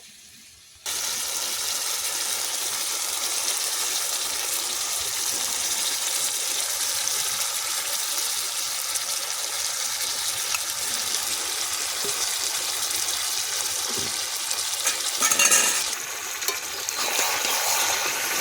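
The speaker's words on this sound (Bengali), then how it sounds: "টক দইটা দিয়ে ভালো করে মিশিয়ে নেব মাংসের সাথে" Sour yogurt, whisked beforehand, being stirred into mutton for a Bengali curry: a steady, loud frying hiss with faint scraping and stirring runs almost the whole time, with a slight swell in the noise near the end.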